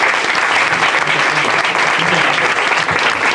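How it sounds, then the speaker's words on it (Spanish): A live audience at a TV show breaks into loud, sustained applause, a dense wash of clapping that stays even and unbroken for a few seconds with no voices standing out. "Por favor, un fuerte aplauso."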